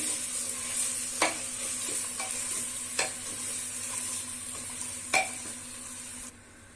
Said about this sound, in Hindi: चला लेंगे।